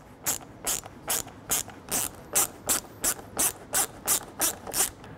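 A ratchet clicking in a steady, even series of about fourteen close, sharp strokes while screws are driven into the plastic header of a Jeep Wrangler JK soft top, with no voices.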